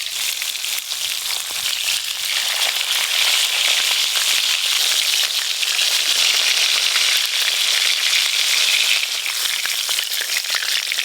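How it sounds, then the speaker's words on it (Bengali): Pieces of a large stingray fish fry in hot oil, making a loud, dense, continuous sizzle with fine crackling, close up and alone. "শাপলা পাতা মাছ কিন্তু বেশ ভালো করে ভাজতে হয়, তাই একটু সময় নিয়ে লাল লাল করে ভাজবো"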